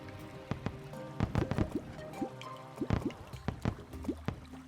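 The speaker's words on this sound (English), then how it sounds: "I don't like that it's making the same water noise as something is on your hook" Water splash and drip effects from the Terraria fishing hook in the video game, a run of small plopping and bubbling droplets in irregular clusters, close and moderately loud with no voices.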